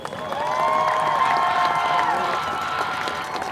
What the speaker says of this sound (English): a round of applause for your 2022 band seniors